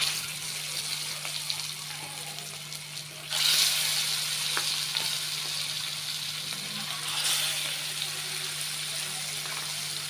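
Pangas fish rubbed with turmeric, chili and salt frying in oil, a steady hiss that rises noticeably in volume partway through and continues crackling evenly to the end.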